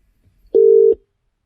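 A single short electronic telephone tone sounds once while calling back, steady and moderately loud, alone with near silence on either side.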